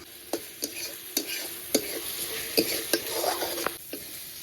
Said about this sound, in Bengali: আদা রসুন বাটাটা দিয়ে ভালো করে একটু কষিয়ে নেব